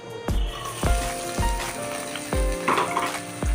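Onion pieces fry in oil in a pan with a steady close sizzle, broken by sharp, regular clacks of a spoon stirring against the pan, with no talking.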